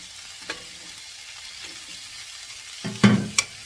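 Shrimp frying in a pan for a spicy ginger and garlic dish gives a low, steady sizzle, broken by light utensil taps and a louder stirring scrape near the end.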